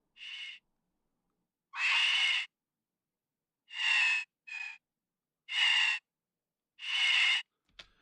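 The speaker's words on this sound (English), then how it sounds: "female scream of a lady just going, ah!" Chopped high-pitched female scream sample for the Resident Evil 2 Licker, six short shrill bursts with silent gaps between them, close and piercing.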